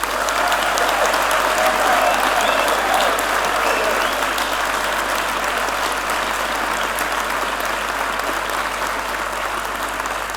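Sustained applause from a large audience at a school passing-out ceremony, dense and steady for about ten seconds with no talk over it.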